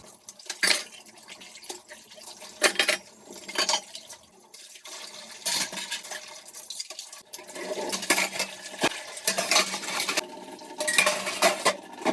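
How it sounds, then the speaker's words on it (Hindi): Many utensils and pots are washed quickly by hand in a home kitchen, with repeated clinks and clatters of cutlery and dishes over running, splashing water, close and busy, with no talk. "बहुत सारे बर्तन है इसलिए मैं जल्दी से फटाफट से धुल लेती हूँ।"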